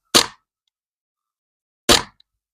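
Two sharp, loud shots from a Tokyo Marui Foliage Warrior airsoft gun, spaced almost two seconds apart, each a crisp crack that cuts off quickly into silence.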